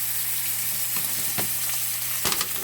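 Steak sizzling steadily in a hot pan just after being flipped, a continuous close frying hiss with a few brief crackles and pops.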